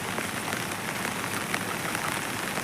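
Heavy rain pours down over a rural paddy field area, a dense continuous hiss of drops striking surfaces, steady and close with no voices.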